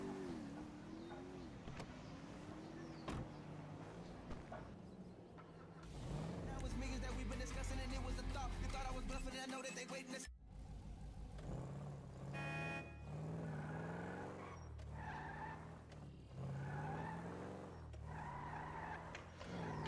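A car in the video game GTA V is driven and parked in Franklin's garage, with engine hum, revving and tire skids, a loud burst of acceleration in the middle, and someone talking throughout.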